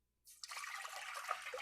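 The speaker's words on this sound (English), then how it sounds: "you have to put 6 cups of water" Water for tamarind sauce pours into a pot after a short silence, a close, quiet, continuous splashing trickle that holds steady to the end.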